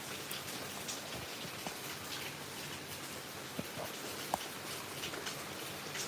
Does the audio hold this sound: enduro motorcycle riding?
no